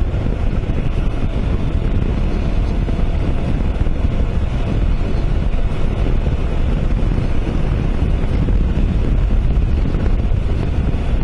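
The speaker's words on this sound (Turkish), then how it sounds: "Rüzgar uğultuları." Strong, constant wind roar buffets the microphone throughout while riding a Mondial RX3i Evo motorcycle, a dense rushing noise with no voices.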